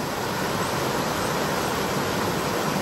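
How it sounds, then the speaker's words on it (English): A swollen creek in flood rushes past in woodland, a dense, steady roar of churning water filling the scene at close range with no break or voice. "As you can see the power of this creek even now."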